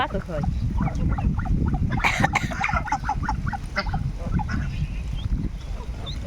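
A flock of farm-raised ducks quacks and honks close by in a dense, overlapping chorus that continues without a break, with a person talking among the birds.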